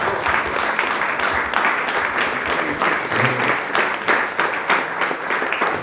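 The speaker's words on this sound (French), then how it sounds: "je pense que vous pouvez vous applaudir d'être venus ce week-end." Sustained applause from a crowd of participants at a weekend immersion club gathering, dense and steady throughout with some sharper individual claps, no talk over it.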